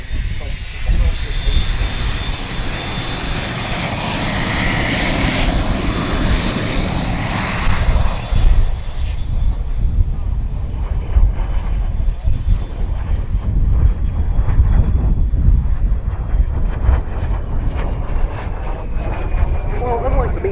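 A vintage single-engine de Havilland Vampire jet roars past at the Duxford Battle of Britain air show, loud engine noise with a rising whine and then a rumbling fade, under continuous commentary.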